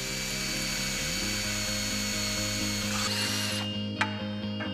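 A power drill guided by a drill jig bores holes in an aluminium frame profile, a steady high mechanical whine with a pitch shift partway through, ending in a sharp click, close and without talk.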